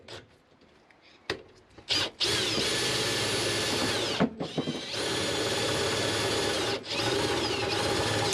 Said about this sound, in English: use the 12mm drill bit to drill the main hole for the tap